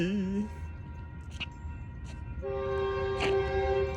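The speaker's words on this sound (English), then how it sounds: "There's a train coming. Right on time." A train rumbles past with its horn blaring loudly in long sustained blasts, rattling wheels underneath.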